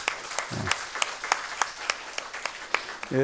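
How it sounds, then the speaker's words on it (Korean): A church congregation claps during a livestreamed worship service, a thin, sparse patter of hands heard from a distance with brief murmuring voices at the start and end. "박수로 한번 축복하겠습니다."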